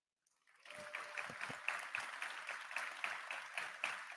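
Audience applause fills a packed house at a Bitcoin conference in Nashville, a crowd's clapping that swells in quickly from silence and stays steady and dense, heard from some distance.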